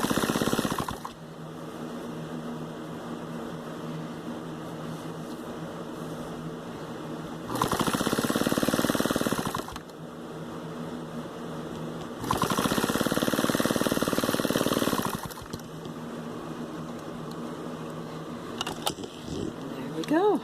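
A sewing machine fitted with heavy-duty needles stitches a fabric mask in two sustained bursts of rapid whirring, separated by quieter pauses with a low background hum.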